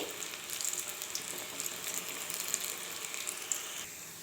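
Small pakodis deep frying in hot oil, a steady soft sizzle with faint bubbling crackle running throughout, moderately quiet and close, no voices.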